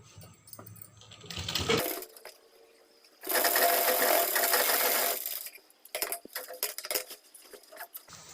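Sewing machine stitching a four-panel petticoat, running in bursts: a short run, then a longer steady whir of about two seconds, followed by lighter intermittent stitching and handling noise.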